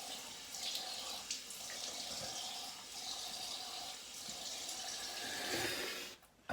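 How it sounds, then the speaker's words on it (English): Cold tap water runs steadily into a sink while someone rinses their face after shaving, with splashing and gurgling continuing for several seconds and then cutting off abruptly at the end. "Gonna rinse cold"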